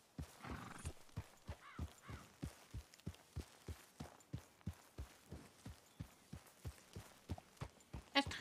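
Steady clip-clop of horse hooves in a video game, an even walking rhythm with a brief whinny near the start, fairly quiet and clean.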